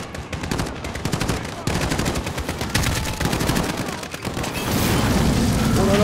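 Sustained automatic weapon fire in Call of Duty: Modern Warfare, long loud bursts separated by brief gaps, with a heavier rumbling blast building near the end.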